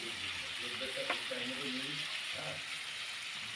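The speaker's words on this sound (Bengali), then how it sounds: "ভালো করে ভেজে নেব আলুটা" Potato pieces fry in oil in a pan for a Bengali rohu fish and potato curry, giving a steady broadband sizzle throughout with a few faint utensil touches and a brief murmur of voice.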